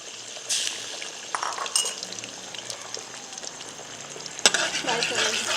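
Eggs fry in oil in a pan with a soft, continuous sizzle, broken by a few clinks and scraping touches of a utensil, close and moderately loud.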